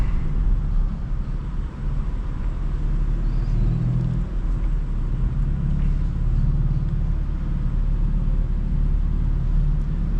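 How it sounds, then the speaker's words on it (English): A BMW F82 M4 with a turbocharged engine drives along, heard as a steady low rumble of engine and road noise from inside the car, with no clear revving. "The turbo just sounds so good on this car"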